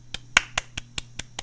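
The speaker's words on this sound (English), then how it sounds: "Sorry, I'm clapping." Seven sharp, evenly spaced hand claps, close and fairly loud, played out over a soft steady hum at a game of Game of Life.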